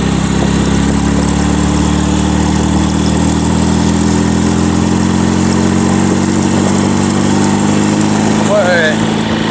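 A motorbike engine labours steadily and loudly up a fairly steep uphill road, a continuous close drone with riders' talk over it and a brief squealing sound near the end.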